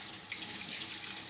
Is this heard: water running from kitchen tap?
yes